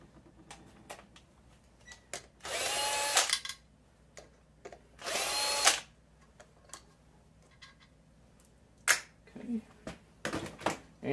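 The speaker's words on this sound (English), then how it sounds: "got two bolts holding it in. Just gonna take those loose" A power tool loosens the bolts holding the low oil sensor on a Predator 212 small engine during teardown: two loud bursts of a few seconds each, with scattered clicks and taps of tools around them.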